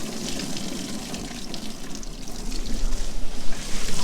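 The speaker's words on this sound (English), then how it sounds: "pulling this coolant hose off, and let's see how nasty this coolant is" Old engine coolant pours and splashes steadily from a pulled hose on a 1948 Willys CJ2A Jeep, a close, continuous gush that grows slightly heavier toward the end.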